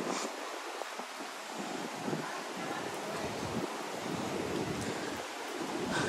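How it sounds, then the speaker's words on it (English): Breezy wind rushes across the microphone outdoors at a theme park near a ride, a steady, fairly quiet broadband hiss with mild gusts and no clear talking. "It's a little breezy here."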